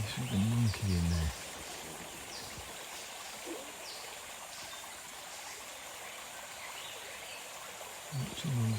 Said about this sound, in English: with all the sounds of the river